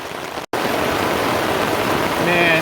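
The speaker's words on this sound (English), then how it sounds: "Man, it is really raining." Heavy rain drums steadily on a campsite tarp during an overnight camping trip, a loud, close, unbroken hiss and patter with a brief dropout near the start.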